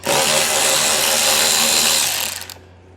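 A power tool backs out 8mm screws while a hidden trailer hitch receiver is fitted, a loud close whirring buzz held for about two seconds before spinning down and cutting off.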